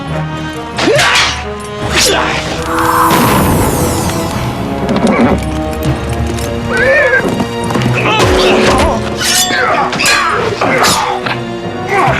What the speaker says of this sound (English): Rowena, get on my horse!